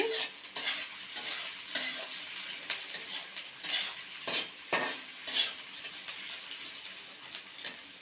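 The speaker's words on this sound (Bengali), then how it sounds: "এই যে প্রথমে পেঁয়াজটা আমি একটু লাল লাল করে ভেজে নেব" Onions and bay leaves sizzle quietly in oil as a utensil stirs and scrapes the pan in repeated strokes, with no one talking.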